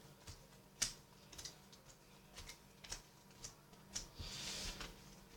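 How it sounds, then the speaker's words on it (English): Pokemon trading cards are shuffled by hand into piles, giving soft, irregular ticking snaps and light riffles at close range, quiet and spaced about every half second with no talking. "Let's continue my shuffling."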